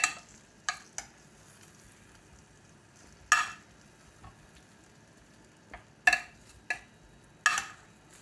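Root vegetables roasting in an oven dish are stirred, giving a few scattered scrapes and clinks of a utensil against the dish over a faint steady sizzle, with long quiet gaps between.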